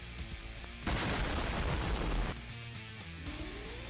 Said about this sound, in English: I wipe out the mandrakes. Explosion!